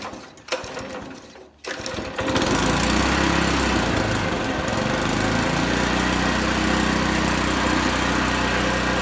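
A Honda engine on a Lesco lawn aerator starts up after a few rough catches, then settles into a loud, steady, close running drone that holds to the end.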